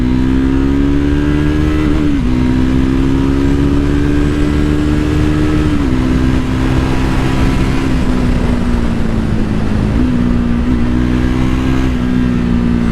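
A Triumph Scrambler 400X single-cylinder motorcycle accelerates hard under a rider, engine loud and close, pitch climbing through each gear then dropping at the shifts, with strong wind noise throughout.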